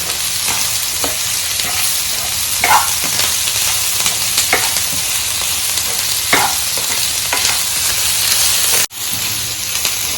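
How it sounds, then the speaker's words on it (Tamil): Onions and green chillies fry in a pan with a loud, steady sizzle, broken by repeated scraping strokes as they are stirred, close and continuous with no talking. "வெங்காயம் நல்லா கலரி விட்டுக்கலாம்"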